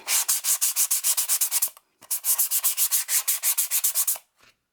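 Rapid back-and-forth hand sanding on plywood, loud rhythmic rasping strokes in two bursts of about a dozen each, separated by a short pause.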